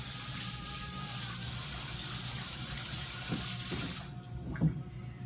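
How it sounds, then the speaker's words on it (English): Noodles and their cooking water are poured from a pot into a colander in a sink, making a steady rushing gush of water that swells into heavier splashes near the end. "So that's where we're going to drain the noodles."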